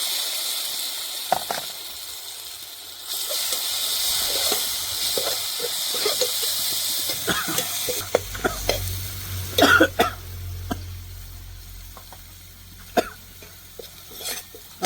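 Chopped tomatoes go into a pan of cooked onion gravy, bringing a broad, loud hiss and sizzle that rises and then settles. Scattered clinks and scrapes of stirring follow, with no talking.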